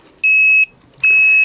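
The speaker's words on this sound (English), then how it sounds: "what is that beeping?" Two loud, steady electronic beeps, each about half a second long, from a small device close by, separated by a brief pause.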